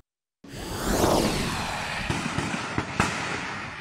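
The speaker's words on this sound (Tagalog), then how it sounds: "Umalingaw-ngaw ang palitan ng putok ng baril sa Tugunan, North Cotabato sa unang araw ng Ramadan." An exchange of gunfire in Tugunan, North Cotabato: a rushing, roaring wash of sound followed by a few sharp, distant cracks echoing out.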